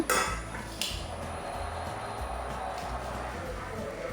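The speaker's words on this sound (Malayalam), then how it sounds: "ചിക്കൻ കറി ഉണ്ടാക്കാൻ വേണ്ടിയിട്ട് കുറച്ചധികം സവാള തന്നെ എടുത്തിട്ടുണ്ട് അപ്പോൾ അതൊന്ന് സ്ലൈസ് ചെയ്തെടുക്കുകയാണ്" Onions for chicken curry are sliced in a home kitchen, and steady knife taps and clinks sound close and fairly faint, with a sharper knock near the start and a low rumble running underneath.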